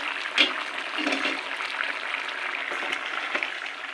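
Vegetables for a rohu fish curry fry in a pan, giving a steady bubbling sizzle with soft, intermittent stirring scrapes, close and moderately loud.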